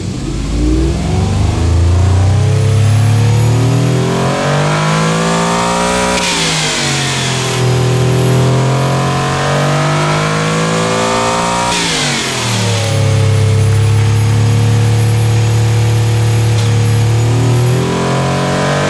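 A car engine in the Automation game revs hard toward 7300 RPM, a loud sustained mechanical roar that climbs in pitch, drops back twice and rises again, with no voices over it.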